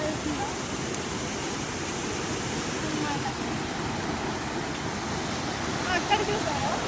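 Water rushing over the top of a bridge near a village in the ASR district hills, a steady broad roar of flowing water throughout, close and continuous, with a faint voice briefly near the end.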